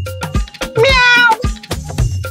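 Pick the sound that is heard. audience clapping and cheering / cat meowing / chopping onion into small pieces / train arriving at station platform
cat meowing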